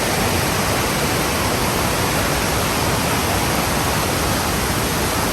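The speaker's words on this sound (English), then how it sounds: "Waterfalls is down there." A waterfall at Kawazu Seven Waterfalls pours in a dense, unbroken roar that is loud and constant throughout, with no voices.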